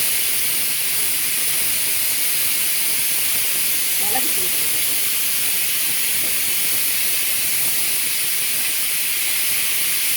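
Garlic kuzhambu, a spicy Tamil curry with fenugreek and pepper powder, boils in a pot, giving a steady, close hiss of bubbling and steam throughout.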